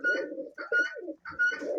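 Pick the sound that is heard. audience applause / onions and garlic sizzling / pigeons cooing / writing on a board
pigeons cooing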